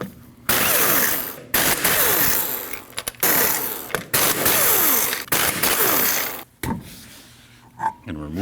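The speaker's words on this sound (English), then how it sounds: "you need to remove your 5 lug nuts" Lug nuts, 19mm, being spun off a 2003-2008 Subaru Forester front wheel with a ratcheting tool: bursts of rapid clicking and mechanical whirring come in several loud runs with short pauses between them, close by.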